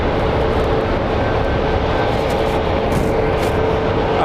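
A SkyWest airliner departing Phoenix Sky Harbor airport, a loud, steady broadband jet roar that holds evenly throughout without people talking.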